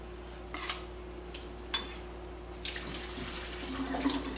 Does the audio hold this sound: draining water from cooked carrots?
yes